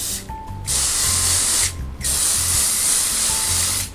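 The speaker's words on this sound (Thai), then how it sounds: "เราเน้นให้พวกละอองพวกสเปรย์ไปเกาะบนผิวของรองเท้าดีกว่าครับ" Saphir protective spray misted onto suede leather shoes: two long, steady aerosol hisses with a brief pause between them, close and loud, with no talking.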